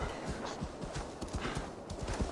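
Horse hooves clip-clopping in the video game Assassin's Creed Valhalla, a quick steady run of close hoofbeats at an even trot.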